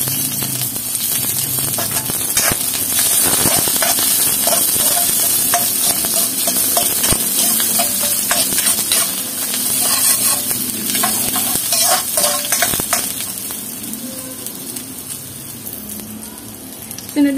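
Medium onion sautéing in two tablespoons of oil, a steady close sizzle and crackle with occasional stirring scrapes running unbroken throughout.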